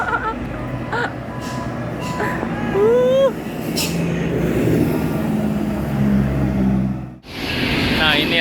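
An NPM bus on a Sumatran road near Batang Pamo drives past, its engine a steady low rumble building and then fading under brief horn-like tonal calls, before an abrupt cut to another sound.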